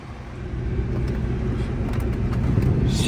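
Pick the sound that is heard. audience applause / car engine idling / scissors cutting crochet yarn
car engine idling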